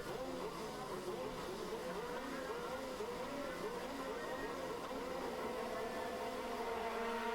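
A pack of KZ2 racing karts revs and accelerates together at a race start, a dense, buzzing engine drone with several overlapping whining pitches, heard from a distance.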